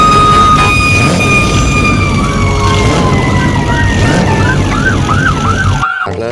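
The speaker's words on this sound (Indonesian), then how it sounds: "Ini ada mobil pemadam kebakaran teman-teman." A toy fire truck's electronic siren wails loud and close in a long, steady tone that shifts into a rapid warbling yelp near the end, with steady background noise underneath.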